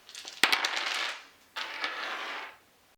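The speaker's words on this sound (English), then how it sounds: "So here's an example of a dice roll." A dice roll for an art project game: two bursts of hard clattering and rattling, the first with sharp clicks, each lasting about a second, close and alone.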